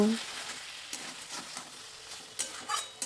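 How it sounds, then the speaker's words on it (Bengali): Thick paste of ground cashews and melon seeds being stirred in a frying pan over a light sizzle, with a steady soft scraping texture and a few sharper spatula knocks toward the end. "দিয়ে দেওয়ার পর আবারও ভালো করে নাড়াচাড়া করে নেব।"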